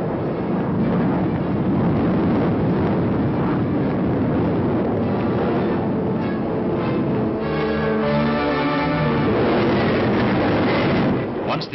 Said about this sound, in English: is carried skyward by a B-52 mothership